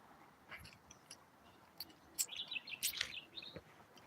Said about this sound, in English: You guys can hear the birds?